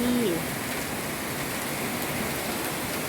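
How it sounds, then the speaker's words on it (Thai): Heavy rain pours down in Na Kluea, Pattaya, Thailand, a dense, continuous roar of drops, loud and close, with a brief voice at the very start. "ฝนตกอย่างแรงเลยค่ะ"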